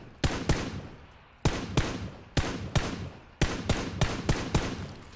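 Bursts of automatic gunfire in the PUBG battle-royale video game, several rapid volleys of sharp shots at close range with no talk over them.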